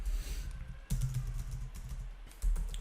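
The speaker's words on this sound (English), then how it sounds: "let me do the typing" Rapid keystrokes clatter on a computer keyboard in close, uneven bursts, pausing briefly between runs of typing.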